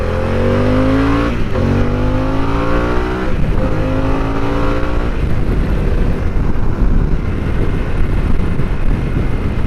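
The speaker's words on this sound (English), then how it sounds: "It's the Rev Max, and it loves to be revved out." A 2024 Harley-Davidson Pan America Special Revolution Max engine revs up through the gears, its pitch climbing and dropping twice before settling into a loud, steady roar at speed.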